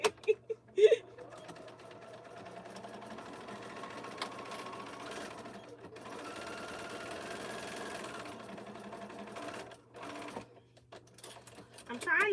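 A sewing machine double-stitches a T-shirt quilt border, running in a steady mechanical whir for several seconds between short stops and handling clatter, with a person speaking quietly.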